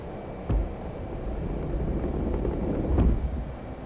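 A propeller aircraft engine roaring at full throttle on a takeoff run in a flight game, a steady loud drone with a couple of sharp thumps, no talk.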